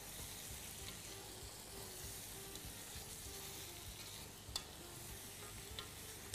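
Steady sizzling of chicken frying in a pan with Maggi seasoning, a spoon stirring and scraping with repeated soft strokes and an occasional sharp clink, quiet and close with no talking.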